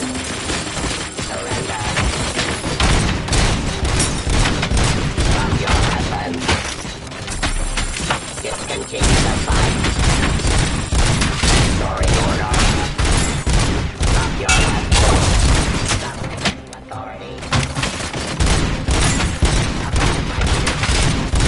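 Robocop RC toy firing a loud, steady stream of electronic gunfight effects, with rapid burst after burst of gunshots and booms running throughout with only brief dips.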